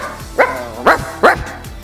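A person imitates a dog barking, giving three sharp, close bark-like yelps in quick succession with small gaps, loud and clear with no other talk.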